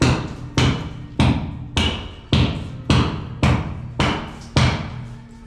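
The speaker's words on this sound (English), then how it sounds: "You need to hack off," Plaster is hacked off a wall during a house refurbishment in Galatina, Italy, with nine loud, heavy hammer blows at an even, steady pace, each ringing briefly and then fading before the next strike.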